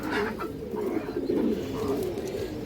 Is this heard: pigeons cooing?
yes